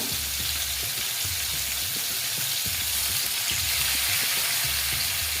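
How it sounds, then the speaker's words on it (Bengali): Boal fish frying in hot oil gives a steady, loud sizzle with crackling bursts throughout, with no talking. "আরেকটা দিয়ে দিচ্ছি একসঙ্গে ভেজে নিই"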